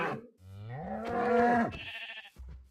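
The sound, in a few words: cow mooing in Minecraft video game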